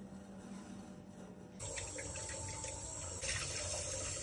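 Rohu fish head being rinsed under running tap water, a steady splashing flow that grows louder and brighter partway through as the stream strikes the head or the sink more directly.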